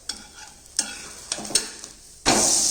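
A wheat flatbread in an oiled pan over medium gas gets a few light scrapes and taps, then a sudden loud, sustained sizzle as it is flipped to roast the other side.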